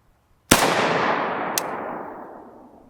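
A single sharp rifle shot cracks out from a 5.45x39mm rifle loaded with Hornady 60gr V-MAX ammunition, its loud report followed by a long decaying echo and a faint second impact-like snap about a second later.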